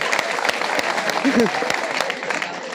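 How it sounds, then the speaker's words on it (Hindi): Students in a school classroom clap together in a steady, fairly close burst, with a few voices talking over the applause. "उसके लिए ताली बजाओ भाई"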